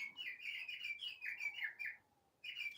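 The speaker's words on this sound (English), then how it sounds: "there's my bird clock" A bird clock chirps with a run of bright, quick tweets, then falls briefly quiet before the chirping starts up again; the sound is fairly faint and heard alone.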